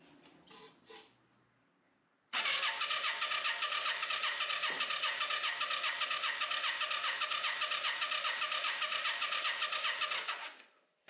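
A 1995 Yamaha Virago 535 motorcycle engine catches after a few faint clicks and runs steadily and loudly up close for about eight seconds with a rapid, even pulsing, then shuts off.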